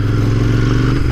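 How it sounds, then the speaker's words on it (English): A Royal Enfield motorcycle runs close by with a deep, steady, throbbing exhaust note that holds an even level throughout, with no talking. "That exhaust note is just sensational."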